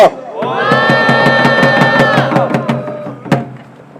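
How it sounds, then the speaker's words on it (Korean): At an outdoor press conference rally calling for a Korean peace treaty, a crowd lets out a loud, sustained unison shout over evenly spaced rhythmic claps, ending with a final sharp clap and fading voices. "힘찬 박수로 모시겠습니다"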